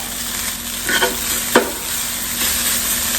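Sausage patties fry in a pan with a steady close sizzle, broken by a couple of brief scraping clatters, no voices.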